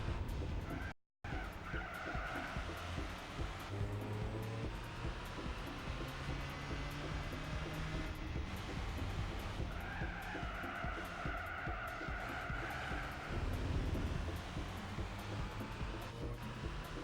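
A Peugeot race car in Gran Turismo 4 howls at steady high revs while its tires squeal through corners, long sustained screeching over the engine drone, fairly quiet overall.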